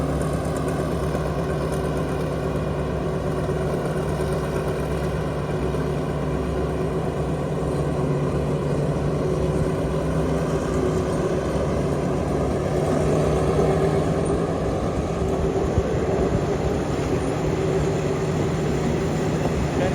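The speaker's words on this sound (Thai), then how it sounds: "บวนออกจากสถานีบ้านโป่งแล้วนะครับสำหรับขบวน รถไฟชานเมืองที่ 351" An Alsthom diesel locomotive hauling a commuter train rumbles with a steady, droning engine hum, its tone holding firm throughout a long, continuous stretch as the train pulls away from Ban Pong station, Thailand.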